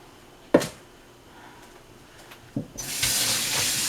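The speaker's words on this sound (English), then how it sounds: "Kind of wash our hands of all this glue." Hands being washed free of glue-like batter under a kitchen tap, a couple of sharp clunks followed by a strong steady rush of running water toward the end, close and alone.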